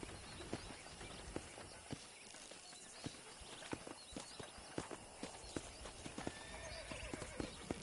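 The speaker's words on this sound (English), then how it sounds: "That ranch hand said there's a pack of wild horses nearby." Many wild horses' hooves clatter in a fast, irregular galloping rhythm in a video game, close and loud, over a steady background rumble, with occasional whinnies.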